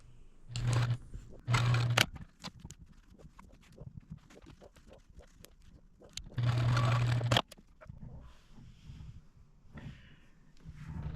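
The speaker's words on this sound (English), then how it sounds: "So I'm going to sew this row together, and then I'll sew it to the previous row." A sewing machine stitches a quilt row in short bursts, three quick runs of motor whir separated by pauses with soft handling noises, close and fairly loud.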